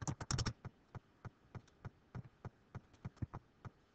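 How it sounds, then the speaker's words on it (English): Typing on a computer keyboard, a quick burst of clustered keystrokes followed by evenly spaced single key taps, close up and crisp in a quiet room. "Let's type the name."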